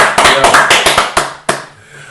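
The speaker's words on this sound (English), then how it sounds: "we gotta clap it up for this one more time" A few hands clapping in a quick, uneven burst of about eight sharp claps, close and loud, ending after a last clap with a soft room tail.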